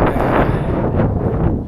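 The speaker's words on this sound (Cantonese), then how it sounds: "係風大咗少少啊。" Strong wind on an exposed mountain trail about 800 metres up on the way to Hehuan East Peak in Taiwan, a loud, close, continuous roar of gusts buffeting the microphone for under two seconds.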